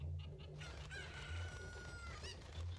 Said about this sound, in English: The chicken's up here.